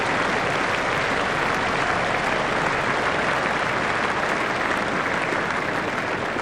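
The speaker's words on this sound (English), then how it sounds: "the crowd is giving them a warm welcome" Steady, dense applause from a video game cricket crowd in Cricket 2004, a T20 match between Hampshire and Somerset, filling the whole stretch as an unbroken wash of clapping.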